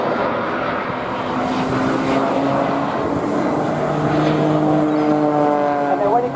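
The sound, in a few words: Red Arrows jet aircraft climbing at full engine thrust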